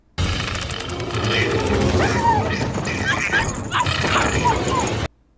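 Dog whimpers and yips from a film scene sound over dense music and effects, with voices talking throughout.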